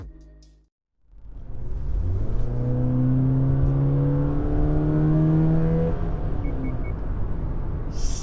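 A Subaru Forester Sport fitted with an AEM cold air intake pulls away on a test drive after a brief quiet moment, its engine rising in a loud, close, sustained revving drone with climbing pitch and intake whoosh, no talk over it.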